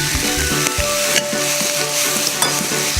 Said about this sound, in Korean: 자, 이제 볶아주세요.